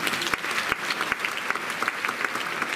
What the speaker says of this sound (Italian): a cui farei un bel applauso